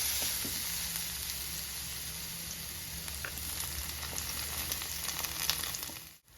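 Chopped ripe plantain frying in hot coconut oil for a Kerala-style stew produces a close, even hiss of sizzling with a few faint clicks, cutting off abruptly at the end, with no speech.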